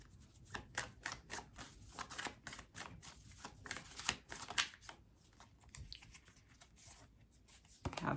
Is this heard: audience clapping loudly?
no